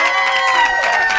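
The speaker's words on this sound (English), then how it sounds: "How about a round of applause for the great Haley Chura?" An audience at a Breakfast with Bob from Kona event cheers and shouts loudly for a brief, close burst, with voices dominating over light clapping.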